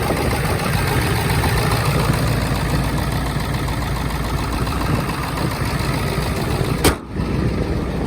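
A used dump truck's typical engine idles steadily close by, a continuous even rumble under wind noise with a brief knock near the end.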